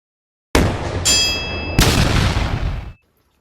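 A Savage MKII BTV rifle loaded with SK Standard Plus ammunition fires at a 100-yard target: two sharp, loud reports with ringing decay, the second about a second after the first, then a third burst that fades out.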